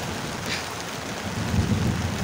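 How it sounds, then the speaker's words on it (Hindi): Low rumbling thunder rolls under steady rain, a continuous wash of falling water with the deep rumble swelling toward the end, with no voices. "ये देखें बादलों की आवाज़ें।"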